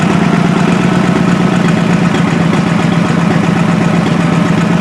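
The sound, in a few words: Honda Shadow ACE 1100 motorcycle engine idling fast after carb rebuild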